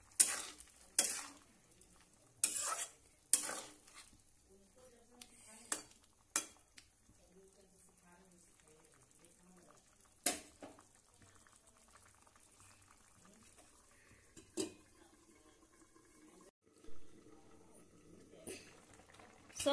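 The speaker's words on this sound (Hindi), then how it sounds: "सो फ्रेंड्स देखिए सब्जी कितना अच्छा खौल रहा है।" A pot of drumstick (sahjan) vegetable curry bubbles away, chopped tomatoes just added. A soft steady simmer runs beneath intermittent louder scrapes and clatters of stirring, close to the pot.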